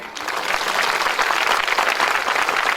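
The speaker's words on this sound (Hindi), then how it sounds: "इस महायोग में आए हुए जो भी आनंद से भरकर लोग हैं वो अपने हाथों को ताली बजा सकते हैं" A congregation at an annual Christian convention claps hands in joyful worship, a loud, dense, continuous roll of applause from a large crowd that swells slightly after the first half second.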